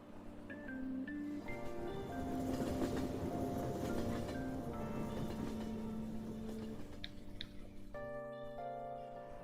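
Steady rumbling train ride from the video game Persona 5 Royal, a continuous carriage hum with tonal layers that shift over about nine seconds, with no talk.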